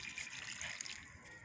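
Water is poured onto a freshly dug garden plant, a brief soft gushing splash heard quietly and alone.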